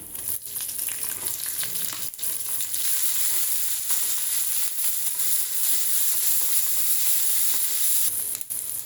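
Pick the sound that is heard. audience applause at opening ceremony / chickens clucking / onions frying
onions frying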